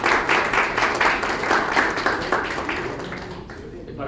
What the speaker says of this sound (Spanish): un aplauso para el doctor Isabel.